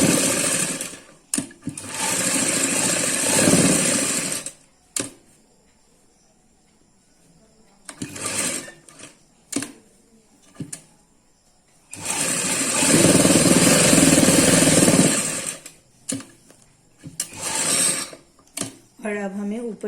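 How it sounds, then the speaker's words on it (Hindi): Sewing machine stitching a suit, running in three long loud whirring bursts separated by quiet gaps holding brief clicks and fabric handling. "यहाँ पे सिलाई लगाने के बाद अब हमें बीच में सिलाई लगानी है इस तरह से"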